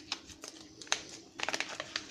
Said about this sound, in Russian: Запакованы они вот в такую вот пупырку.